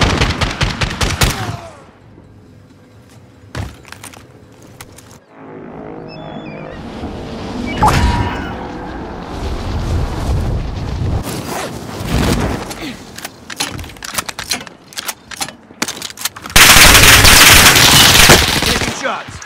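Call of Duty: Warzone gunfire on Rebirth Island, with bursts of rapid automatic shots and single cracks scattered through the clip. A dense, loud volley closes it, and game voice callouts are heard between the shots.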